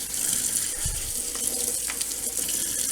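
Cold water runs steadily from a tap into a sink while Royal Berkey water filter parts are rinsed and brushed, a continuous hissing splash with a brief low clunk partway through; no talking.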